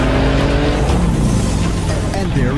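Porsche 911 GT2 RS rear-wheel-drive sports car arriving before a race, a loud steady engine roar with rising and falling pitch sweeps and a brief tire squeal near the end, sounding close.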